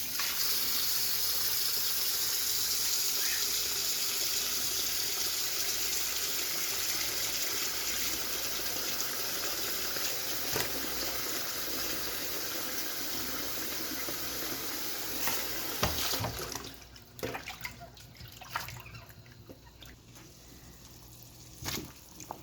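Water pours in a steady rushing stream into a pot for most of the time, then cuts off, leaving a few clinks and knocks.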